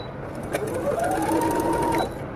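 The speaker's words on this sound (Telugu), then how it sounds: "స్టిచ్చింగ్ ఒకసారి స్టార్ట్ చేసి చూద్దాము" A Brother FS101 sewing machine stitches fabric in a close, continuous motor whir that runs for about a second and a half before stopping.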